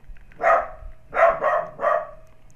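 A dog barks near and loud, one bark followed after a pause by a quick run of three more, alone against a faint steady hum.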